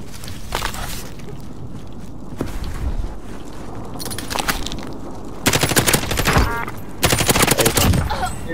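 Sustained automatic gunfire in Call of Duty Warzone, loud rattling bursts that build and hit hardest near the end, close and dominant with little talk over it.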